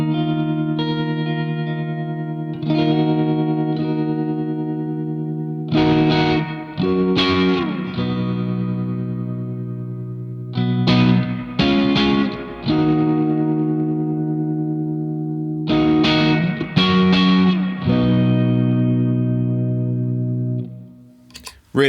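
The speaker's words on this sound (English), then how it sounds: "So with the reverb on there and the tremolo" Electric guitar through a Keeley Hydra stereo pedal with reverb and tremolo, sustained chords ringing in separate strummed phrases with pulsing, washy tails that decay between attacks, played alone without talk.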